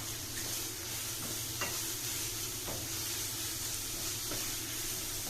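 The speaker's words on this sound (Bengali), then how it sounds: "যাতে সবজিগুলো তাড়াতাড়ি সেদ্ধ হয়ে যায় ভাজতে ভাজতে।" Vegetables fry in a pan with a steady, dense sizzle, and brief stirring scrapes break through every second or so. No one speaks over it.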